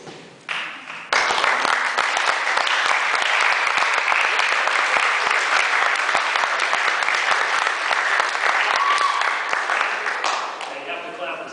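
An audience at a school athletic banquet breaks into loud, sustained applause that holds steady for several seconds before tapering off, with no talk over it.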